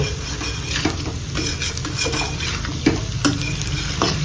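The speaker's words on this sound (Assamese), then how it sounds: "এতিয়া ধুনীয়াকৈ লৰাই 2 মিনিটমান ফ্ৰাই কৰি অলপমান ইয়াতে পানী এড কৰিব লাগিব।" Pork and onion frying in a pan with sesame, stirred with a spoon: a loud, steady sizzle close by, broken by repeated scraping strokes and occasional clinks of metal on the pan.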